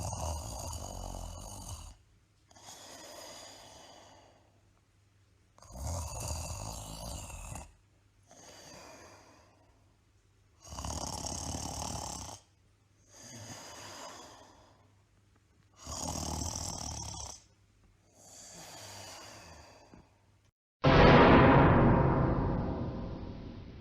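A person imitates snoring in about eight drawn-out rasping breaths spaced a couple of seconds apart, close and fairly loud, ending with a sudden louder burst of noise.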